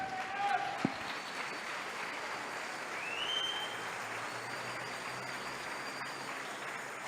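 A church congregation claps as an offering of praise to Jesus, a faint, steady spread of many hands heard from a distance with a few voices over it.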